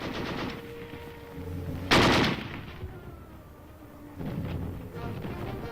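Soldiers stationed in Berlin fire guns in a rapid burst of machine-gun-style shots with one loud, sharp blast in the middle, all of it close and loud.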